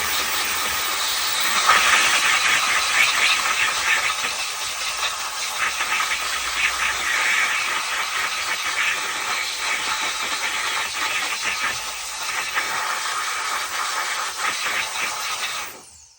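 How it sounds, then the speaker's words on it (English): Air blower blowing at an RC truck during a Traxxas XRT center diff install, a loud continuous rushing hiss close by that holds steady before cutting off at the end. "We got this blower, may as well use it."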